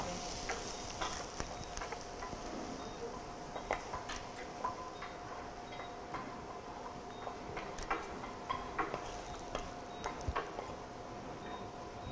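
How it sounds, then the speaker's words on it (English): Cabbage gets stirred into other vegetables in a warm pan, making faint sizzling and scattered soft ticks and scrapes from the utensil, quiet and steady over the whole stretch without speech. "So I'm going to add the cabbage to the rest of the vegetables."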